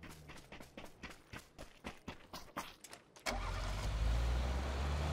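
A car in the PUBG battle royale game: several seconds of rhythmic cranking pulses, then the engine catches and settles into a loud, continuous roar as it pulls away, with no voices.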